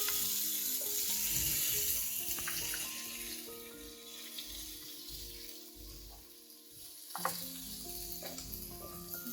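Sucuk sausage sizzles steadily on a hot, oiled toast machine, with a soft, continuous frying hiss and a few light clinks. No one speaks.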